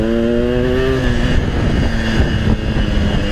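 A Yamaha RX King motorcycle engine while riding, a loud, close, buzzing two-stroke drone that rises in pitch and then holds steady.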